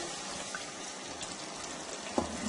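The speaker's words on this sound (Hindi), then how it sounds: "पानी को जरा हमने गर्म करके डाला है, ये देखिए इस तरह।" Warm water poured into a pot of chicken korma, a steady soft gush with a faint splashing patter, close by and alone with no talk.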